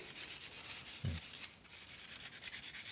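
A knife scrapes and rubs a carved amulet strip smooth, making quiet, repeated rasping strokes close by, with one brief thump partway through.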